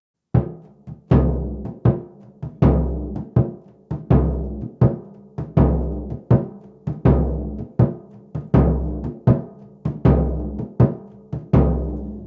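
Brazilian surdo drum struck with a mallet and muted by hand, playing a steady samba pattern: deep booming strokes alternating with shorter damped hits in a regular two-beat rhythm, about eighteen strikes, close and loud with no talking.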